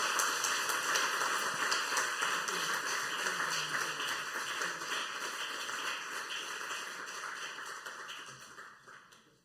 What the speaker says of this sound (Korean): 우리 큰 박수로 축복해 주시면 감사하겠습니다